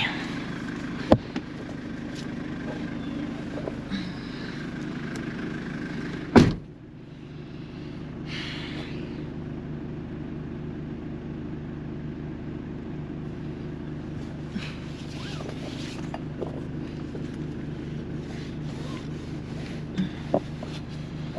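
A 1996 Mitsubishi Delica L400 Jasper 4x4 van with 97K miles drives on a test drive, giving a steady low engine and road drone with wind noise, a sharp knock near six seconds, and faint rattles throughout.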